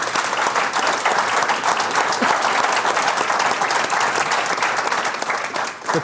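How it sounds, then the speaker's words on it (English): Sustained applause from an audience at a customer appreciation awards dinner, honouring a third-place award winner; dense, steady clapping runs throughout at an even level and fades slightly near the end, with no talking over it. "please give Tony a big round of applause"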